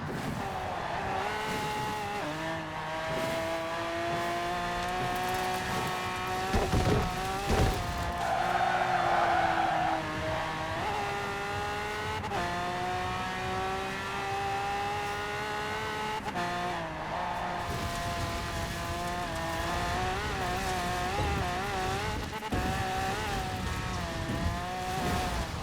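Car driving in the racing video game Forza Horizon 4, a sustained engine whine that rises and falls through gear changes, with tyre skids and rain-like hiss throughout.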